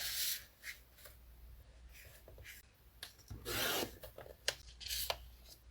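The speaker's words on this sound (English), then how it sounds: "I'm just going to trim a 5-inch here. And I'm going to trim it down to 3-inch." Paper cardstock is trimmed to size on a paper trimmer in quiet scraping and sliding strokes, a few short swipes with soft rubbing handling sounds in between, close and faint.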